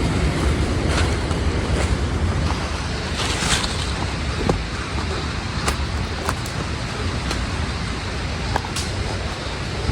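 Rushing water from Bomana Waterfall, the largest waterfall in the Southwest Region, fills the scene with a steady, loud, broadband roar that holds constant throughout, with no voices.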